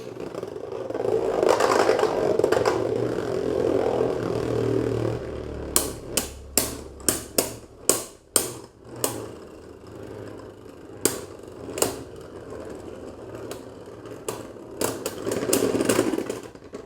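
Two Beyblade spinning tops, Ragnarok and Seig Xcalibur, whir in a plastic stadium, then clash in a run of sharp, irregular clacks and scrapes before spinning on.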